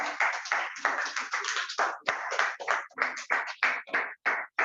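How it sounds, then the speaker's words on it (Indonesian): Steady hand clapping from a group, a quick run of claps close by with brief gaps between bursts. "Tepuk tangan ya buat Pak Amel ya."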